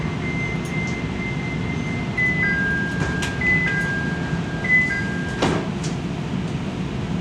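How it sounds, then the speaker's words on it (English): A CTA Blue Line train's doors slide shut at Belmont, a brief thud and whoosh over steady car rumble, with warning chime tones before it. "Doors closing."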